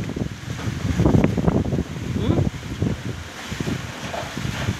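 Strong gusty wind during a storm blowing around a house roof, loud buffeting rumbles hitting the microphone in uneven surges throughout.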